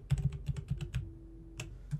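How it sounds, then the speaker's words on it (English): Quick typing on a computer keyboard, a burst of about eight close, crisp keystrokes followed by two more isolated taps after a short pause. "If I keep typing in here"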